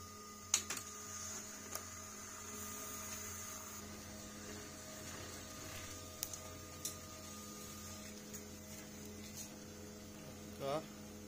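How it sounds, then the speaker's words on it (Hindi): An HP LaserJet M1005 laser printer prints a page, with a steady low mechanical hum and whir plus occasional faint clicks and ticks throughout. "आपका प्रिंट निकल गया"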